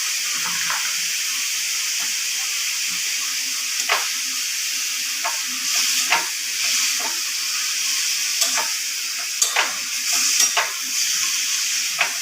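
Ash gourd frying with turmeric and salt in a pan, a steady hiss and sizzle with intermittent scraping clinks of a utensil stirring.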